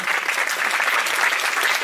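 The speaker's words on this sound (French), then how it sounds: "vous pouvez les applaudir" An audience at the opening night of a Paris film festival applauds the short-film jury, with steady, dense clapping that holds evenly throughout at full strength.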